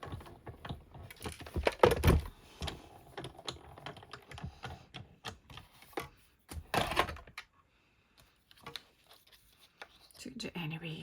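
A manual cut and emboss machine is cranked to cut a circle from card. Close clunking and grinding comes in several uneven bursts, then falls nearly silent near the end before a faint rattle returns.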